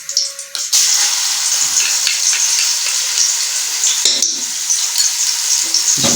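Garlic and ginger paste frying in hot cooking oil, a loud steady sizzle with stirring scrapes over a few seconds, close up and with no speech.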